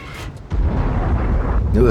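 A loud tank cannon blast from the Gryphon in a video game erupts and rolls into a sustained rumbling boom, on the El Halluf map, with a voice talking over it.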